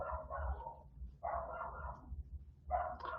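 A small, yippy house dog barks from upstairs, muffled by the floor, in three short bursts of rapid yaps separated by brief pauses.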